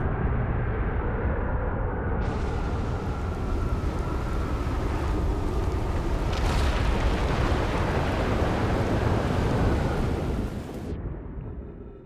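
A player is launched from a cannon in the Outer Wilds video game, a sustained roaring rumble with a broad blast of noise that swells midway, holds for several seconds, then cuts off and leaves a lower rumble.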